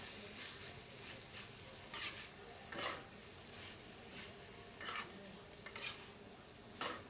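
Yakisoba with minced pork, scallions and tomato being stirred in a pan: a soft steady sizzle with repeated scraping and clinking of a utensil against the pan, quiet and close.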